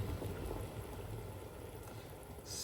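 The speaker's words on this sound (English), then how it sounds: "So I really want to see it boiling" Carrot soup with coconut milk bubbling in a pot, a soft, steady low burble of boiling liquid heard close and faint.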